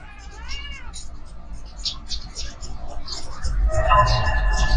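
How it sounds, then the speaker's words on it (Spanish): Disturbing meme cat meowing, a wavering, eerie cat yowl followed by strained caterwauling cries, loud and close over a low background rumble. "¿Qué es esto? Gato perturbador"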